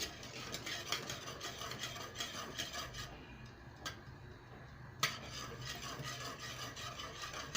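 Zucchini pudding stirred steadily in a pot, a continuous close scraping and rubbing of spoon against metal with a few sharper clinks, no talking.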